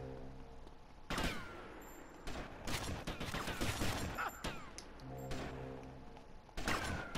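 Gunshots in GTA Vice City ring out as several loud, sharp blasts with ringing tails, followed by a rapid clattering volley, then a final close shot.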